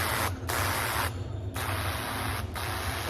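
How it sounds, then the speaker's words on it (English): A pump sprayer hisses out oxalic acid in loud, steady bursts of fine spray, broken by two short pauses, close and continuous with no voices. "this sprayer here, I mean, it works."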